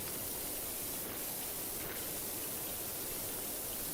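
A pressure washer sprays steadily at close range to blast rust off a surface, producing a dense, continuous hiss that holds level throughout with no voices.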